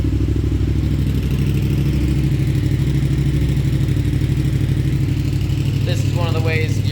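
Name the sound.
Yamaha FZ-07 sportbike engine idling while warming up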